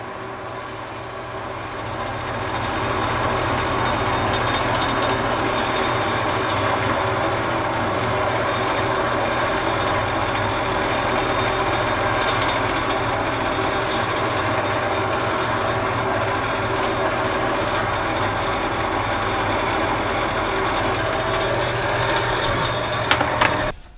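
A lathe set to high speed spins a small lighthouse-shaped Christmas tree ornament, giving a steady, continuous mechanical hum with a faint whine that holds even for the whole stretch, fairly close and alone with no talking.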